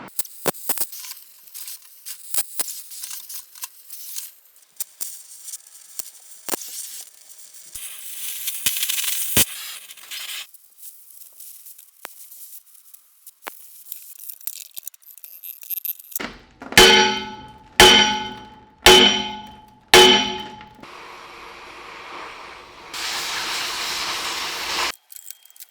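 Metal on heavy equipment is cut through at a weld, starting with scattered light scraping and ticks, then four harsh, loud cutting bursts in quick succession, ending in a steady hiss.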